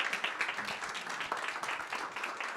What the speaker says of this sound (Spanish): a quien pido también un aplauso por acompañarnos esta mañana